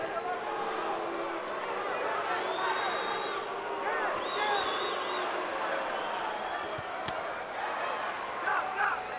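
Boxing arena crowd murmuring and reacting during a bout between Oscar De La Hoya and Trinidad, a continuous roar of voices with scattered whistles and shouts heard under a commentator's talk.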